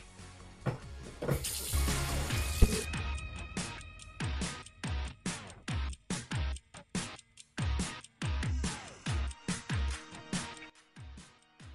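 Running tap water rinsing a Monster High doll's hair, a steady gush at first, then broken into many short splashing bursts as the hair is moved in and out of the stream.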